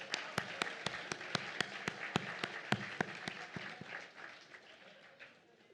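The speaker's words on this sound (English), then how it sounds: "give a round of applause for yourselves because you are all so amazing" Applause from the audience at the 42nd annual Colorado Law Alumni Awards celebration, steady crisp clapping with distinct sharp individual claps standing out over the crowd, slowly tapering off.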